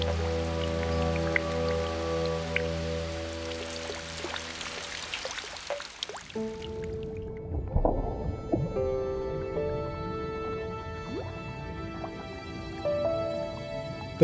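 Rain in the West China rain zone of Sichuan, a steady patter of drops on leaves and surfaces with a sustained hiss. Tones from a musical score fade partway through while the rainfall continues unbroken, fairly close and even.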